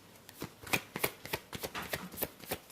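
Tarot cards riffled and shuffled by hand at close range, a quick series of crisp flicking bursts repeating steadily for a few seconds.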